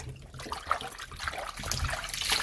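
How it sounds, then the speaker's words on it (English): Tap water runs steadily while vegetables for steamed Jamaican cabbage are washed in a kitchen, a continuous close splashing trickle that grows slightly louder toward the end. "we're gonna just wash up these vegetable good"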